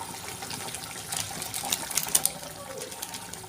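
A fish curry with tomato and poppy seed simmers in a pan, giving a steady, soft, close bubbling hiss with scattered small pops and crackles throughout.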